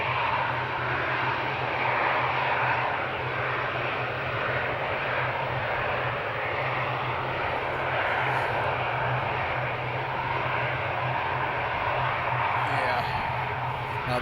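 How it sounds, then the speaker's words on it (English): A huge airliner at Amsterdam airport roars steadily with loud sustained engine noise and a low hum, as a voice talks over it. "Absolutely huge plane."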